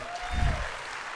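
Auditorium audience applauds in a short, soft burst of clapping that swells briefly and fades, heard from a distance in a large hall at a sports conclave.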